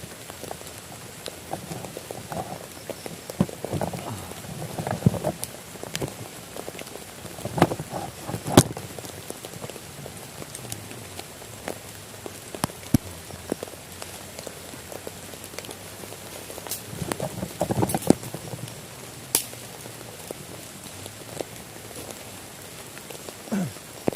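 Steady rain patters on a surface throughout, with scattered louder drops and faint background murmurs, fairly close and continuous.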